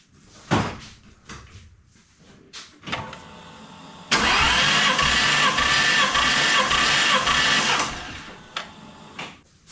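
A car engine cranking over during a compression test on the third cylinder, with a few clunks and knocks first, then a loud steady churning crank of about four seconds that cuts off, followed by scattered handling noises.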